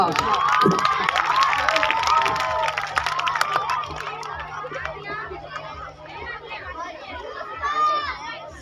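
An audience at a flag hoisting ceremony cheers and shouts, with children's voices prominent; loud and lively at first, then easing into mixed chatter and calls, with voices talking throughout.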